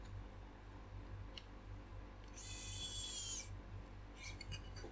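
Small screws with split washers are driven into plastic model parts of a G1 Optimus Prime build, heard as faint clicks and a short high whirring burst over a quiet background hum, followed by a couple of light ticks.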